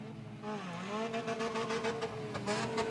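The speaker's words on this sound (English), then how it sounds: "sound like transmission problems in that Honda of Jensen's" A distant Honda race car with transmission trouble whines and revs unevenly at a raceway, its pitch swooping up and down with a rough, struggling tone.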